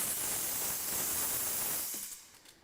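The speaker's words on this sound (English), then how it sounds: "all we need to do is open the tap and the steam comes out" Steam hisses steadily from the steam wand of a Sage BES920 Dual Boiler espresso machine, a loud, continuous broadband rush that fades away near the end as the tap closes.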